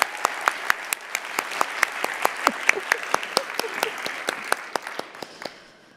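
Audience members at an open mic education event applaud, with many close, crisp claps at a brisk steady pace that thin out and fade toward the end, with faint talk underneath.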